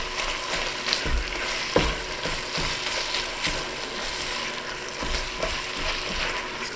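Sausage frying in a soup pot, a steady greasy sizzle with occasional stirring scrapes and knocks, close and fairly loud throughout.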